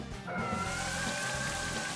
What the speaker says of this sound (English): And Milotic used Rain Dance.